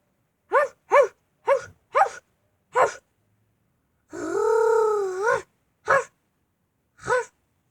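A small dog gives a string of short, sharp yips spaced about half a second apart, then a longer drawn-out whining growl, followed by two more isolated yips, close and clear with no talking.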